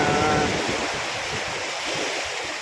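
Rough sea waves wash onto Patar White Beach in Bolinao, Pangasinan, as a loud, continuous broadband surf roar mixed with wind buffeting the microphone.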